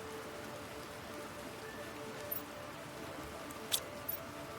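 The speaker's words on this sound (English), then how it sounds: "Sounds like it's raining" Soft, steady rain patter in the video game Planet Crafter hisses in the background, muffled as if heard from inside a dome, with a couple of faint clicks and no voices.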